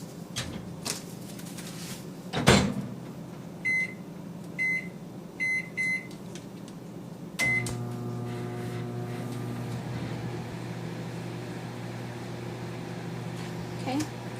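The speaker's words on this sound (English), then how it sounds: "I'm going to be cooking our corn on the cob in the microwave" A microwave oven cooks corn on the cob, with keypad beeps followed by a steady hum of the running oven. Handling noises and a brief clatter come earlier, and a voice is heard in the background.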